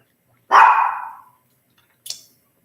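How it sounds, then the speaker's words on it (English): Dogs barking nearby indoors: one loud, drawn-out bark, then a short, sharper yelp about a second and a half later, with silence between. "forgive these dogs."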